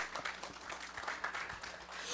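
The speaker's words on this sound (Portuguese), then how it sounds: "uma salva de palmas para os contadores" Brief applause for accountants from an audience at a national leadership workshop and networking meeting, a short burst of scattered clapping with some individual claps standing out.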